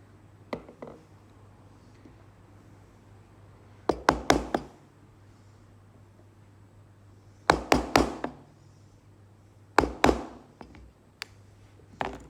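A 25mm chisel scoring along the edges of timber for a wood float, heard as three clusters of sharp, close knocks and taps in quick bursts, with a couple of lighter single taps between them and no talking.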